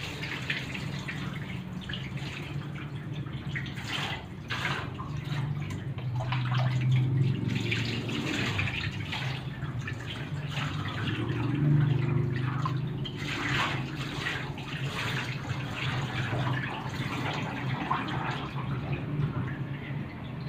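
Water poured from a bucket with a dipper over a dog during a bath, an ongoing splashing and dribbling wash that swells now and then, close by, with no talking.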